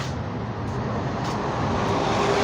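Steady, continuous roar of road traffic, a broad rumbling wash of passing vehicles with no distinct pauses.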